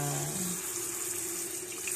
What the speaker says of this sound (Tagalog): So, lagyan na naman natin ng tubig.